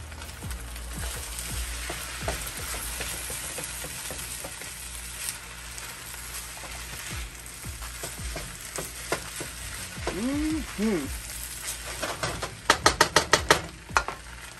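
Freeze-dried garlic frying in a pan for seafood fried rice, a continuous bright sizzle with occasional utensil scrapes and a few sharp clinks near the end, close and steady with no talking.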